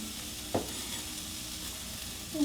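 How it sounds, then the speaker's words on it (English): Onion hits hot olive oil in a pan and sautés with a soft, even sizzle, a brief stir or toss near the start and another at the end, close and unaccompanied by talk. "Then toss your onion into the pan."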